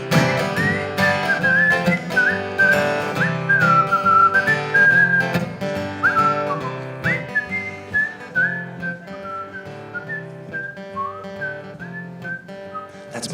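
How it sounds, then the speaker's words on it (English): A person walking whistles a bright, lilting tune for several bars, loud and clear, over sustained instrumental accompaniment in a story song. "I kept on walking and I whistled while I walked."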